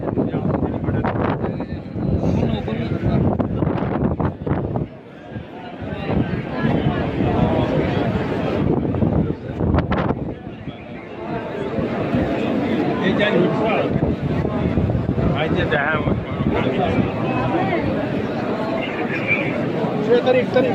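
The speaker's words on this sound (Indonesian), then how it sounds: "angin sangat kencang sekali" Very strong wind during a storm with drizzle in Mecca, roaring in loud broadband gusts against the microphone for the whole stretch, with a person talking over it and crowd babble underneath.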